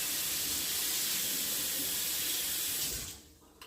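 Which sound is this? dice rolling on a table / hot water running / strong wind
hot water running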